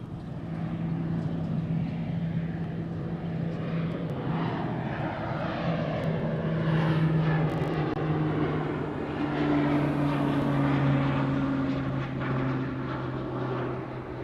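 A fixed-wing airplane departing Honolulu airport, a continuous propeller and engine drone that swells and fades as the aircraft passes at a distance, with no voices.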